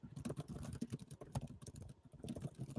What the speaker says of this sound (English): Kris, you're typing.